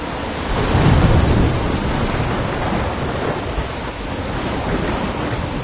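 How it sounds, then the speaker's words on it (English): A thunderstorm in the video game Life is Strange: heavy rain hisses continuously while a deep rumble of thunder swells early on, then settles into a loud, dense downpour. "I'm trapped in a storm?"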